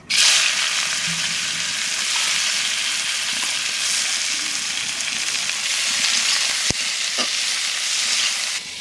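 Chopped onion and cumin seeds fry in hot oil in a pan, giving a loud, steady broadband sizzle with occasional sharp clinks and scrapes of a spatula stirring, close up and without talk.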